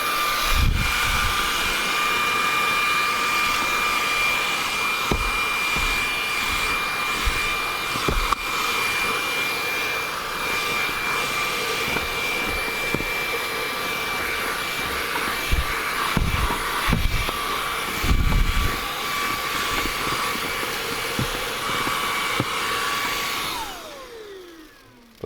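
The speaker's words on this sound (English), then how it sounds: "It works great for a stick vacuum and also a handheld vacuum." A lightweight stick vacuum runs with a steady high-pitched whine and airy roar, brush thumps and bumps occasionally cutting through, then the motor winds down at the end.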